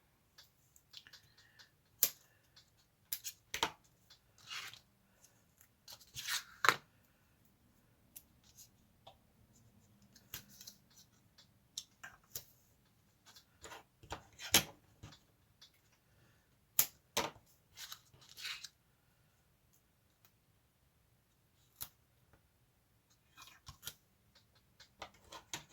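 Small scissors snip paper for a handmade Valentine's mini album, a scattering of short crisp cuts and clicks at close range, spaced irregularly over quiet room tone with no talking.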